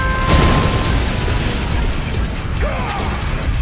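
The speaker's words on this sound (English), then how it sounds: "Warning. Nuclear missile launched." A nuclear missile detonates in Red Alert 2: Yuri's Revenge, a loud sustained boom with rumbling crash and debris that fills the whole stretch, with brief game voice chatter faintly over it.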